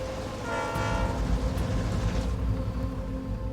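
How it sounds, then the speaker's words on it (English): A train approaching on a railway beside a highway shut by a rock slide, with a loud sustained horn blast over rumbling rail noise and clatter from the wagons as it draws near. "we got a train getting close here"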